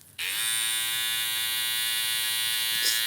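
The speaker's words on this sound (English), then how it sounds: "Let's do the clipper first. Okay, hear that?" A Lo Pro Fx One hair clipper switches on with a sharp start, then its motor runs as a steady, near, high-pitched electric buzz with strong harmonics for about three seconds, no talk.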